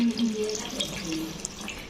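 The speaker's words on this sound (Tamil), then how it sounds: "1/2 லிட்ரு தண்ணி எடுத்து ஊற்றிடணும்." Water is poured from a vessel into pani puri spice powder, a short steady trickling splash with faint gurgling that lasts under two seconds.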